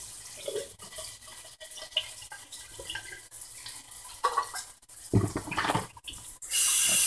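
Liquid from canned corn drains into a kitchen sink, a soft irregular trickle and splashing with small clatters, ending in a louder burst of rushing water.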